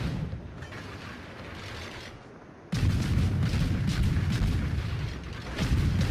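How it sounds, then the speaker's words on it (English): Harugumo destroyer guns firing rapidly in World of Warships, a dense, continuous rumble of booming salvos that thins briefly, then returns louder with an abrupt jump and keeps pounding steadily. "the fire rate on the Harugumo is just frightening"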